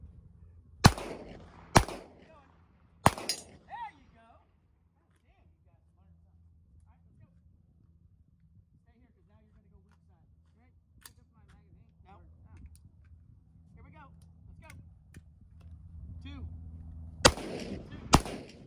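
Sharp gunshots from a tactical shooting class drill, three loud cracks close together early on, a quiet gap with faint movement, then two more shots near the end; voices speak around them.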